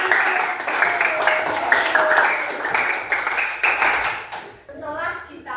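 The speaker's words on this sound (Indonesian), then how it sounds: "mari kita tepuk." Children in a primary school Christian religion class clap their hands in a rhythmic group pattern, fairly close and loud, before the clapping breaks off and a voice speaks.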